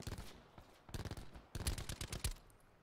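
Automatic gunfire in Call of Duty Black Ops 4 Blackout, rapid bursts of shots in a few clusters, loud and close, with a short gap between volleys and no talk.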